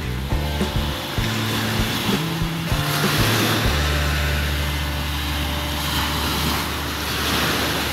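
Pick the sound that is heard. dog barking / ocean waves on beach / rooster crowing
ocean waves on beach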